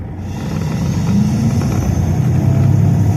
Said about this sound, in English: Trucks come in and out of here all day.